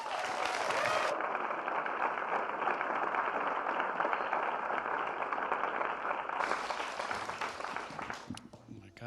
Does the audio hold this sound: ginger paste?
no